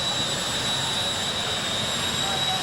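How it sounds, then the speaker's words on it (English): Volcano jet dragster engine at a drag race, a continuous loud roaring whine with a steady high tone, sustained and even across the whole stretch. "It is Chuck Haynes in a brand new Volcano Jet Dragster taking on Leland Blee."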